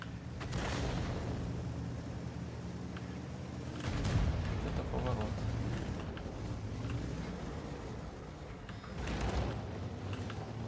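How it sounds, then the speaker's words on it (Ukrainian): Artillery fire booms in the distance, with several heavy dull thuds spread across the stretch amid rumbling background noise. "Це арта"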